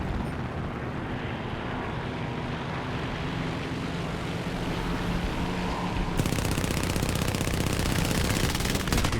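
A P-26A-34 fighter plane's engine drones loud and steady in War Thunder air combat, and its machine guns break into a dense rattling burst near the end.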